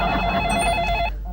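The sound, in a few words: telephone ringing as a call is placed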